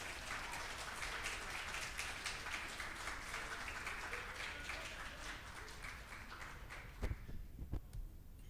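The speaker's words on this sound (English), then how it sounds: "Can I give a round of applause from everyone for Liam Moat?" A meetup crowd applauds speaker Liam Moat with a continuous, fairly faint patter of many hands that holds steady, then thins out near the end with a couple of louder individual claps.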